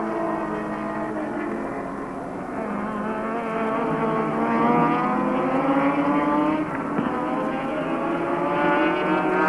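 Holden touring cars race in the 1983 ATCC round at Adelaide, their engines howling loudly with rising and falling revs as the cars run nose to tail through the slipstream, with no voices over the engine noise.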